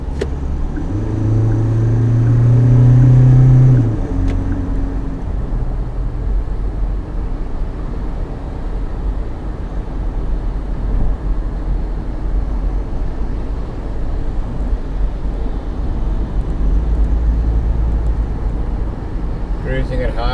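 Mahindra Scorpio N SUV cruising at just under 100 km/h with the engine turning a relaxed 1,700 rpm, giving a steady low cabin rumble and road drone throughout, with a louder hum early on.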